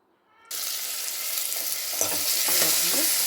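Ginger pieces, cumin, onion and tomato sizzling in ghee for a drumstick-leaf soup, a loud frying hiss that starts abruptly and carries on steadily with stirring clatters toward the end.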